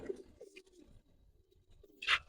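A male Giribaz pigeon, a high-quality flying breed, gives low soft coos close by, with a brief rustle near the start and a sharp louder burst of sound at the end.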